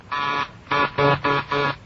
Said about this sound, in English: My buzzer's flashing.